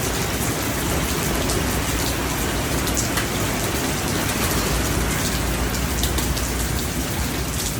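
Heavy rain pours onto an awning during a Memorial Day outdoor event in Gulfport, Mississippi, a loud, dense, unbroken hiss and patter close overhead with no voices.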